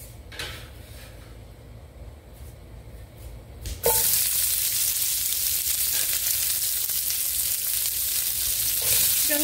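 Vegetables hitting hot olive oil in a pan for chow mein, a loud steady sizzle that bursts in suddenly after a few quiet kitchen clatters and holds alone.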